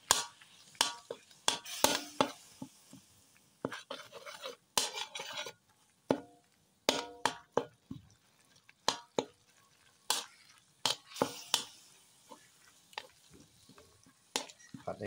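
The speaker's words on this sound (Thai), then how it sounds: "ใส่เครื่องแกงครับ แล้วก็ใส่กะปิครับ คนส่วนผสมให้เข้ากัน" A spoon stirring coconut cream with Thai curry paste and shrimp paste in a pot, with sharp scraping clinks and taps in an irregular rhythm, clear and close with no talking.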